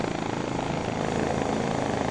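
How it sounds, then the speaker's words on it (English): A helicopter in a military video game, with a loud, steady rotor and engine roar that fills the whole stretch close by, with no talk over it. "Go see Corwin when he lands. He'll transport you in by helicopter to wherever you need to go."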